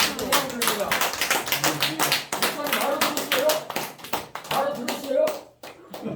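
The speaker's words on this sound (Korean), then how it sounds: "아멘이면 동의하시면 박수를 보내드립니다" Clapping from a church congregation during a Korean worship service, sharp irregular claps overlapping with someone talking, pausing briefly near the end.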